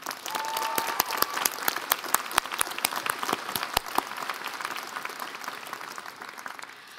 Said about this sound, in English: Let's give them a round of applause for their endless support.